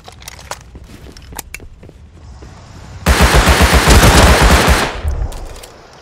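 An attack helicopter in the video game Rust fires its machine gun in a loud, rapid sustained burst of about two seconds, following quieter scattered distant shots and clicks.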